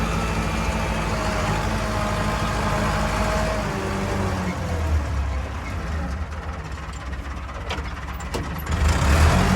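A Massey Ferguson or Erkunt tractor engine runs at a steady low rumble during field preparation for chickpea planting, continuous and fairly close, with someone talking over it.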